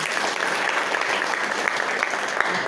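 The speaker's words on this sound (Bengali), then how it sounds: "সবার জন্যে হাততালি, নিজেদের জন্য নিজের হাততালি।" An audience breaks into dense, steady applause, close and loud, with no talk over it.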